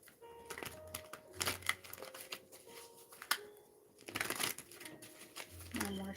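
Tarot cards shuffled by hand in a quiet room: soft papery riffles and slaps come in uneven bursts, faint and close, with low tonal background sounds between them.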